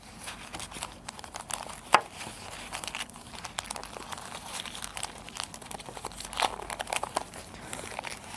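Oil-paper wrapping crinkles and rustles as a packaged fuel injector valve assembly (F00RJ00339) is opened, a steady soft crackle with a couple of sharper crunches, close and fairly quiet.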